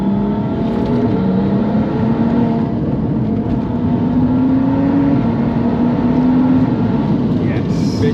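A 570 bhp BMW 135i with a stage 3 DCT gearbox accelerates hard from inside the cabin, a loud droning engine climbing in pitch through rapid gear changes, with voices speaking over it.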